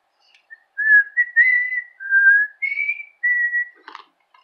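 A person whistles the Happy Birthday tune solo, clear and close, in a sequence of sustained melodic phrases with short gaps, ending with a brief rustle.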